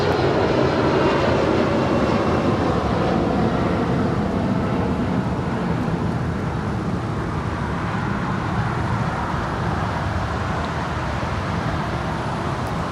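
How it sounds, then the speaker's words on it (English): A United Airlines Boeing 757-300 takes off from runway 25 right at LAX, a loud, steady broadband jet roar that holds for the whole stretch with only slight swells and no voices. "Taking off there on 25 right was United Airlines Flight 1029 heading to Denver, Colorado"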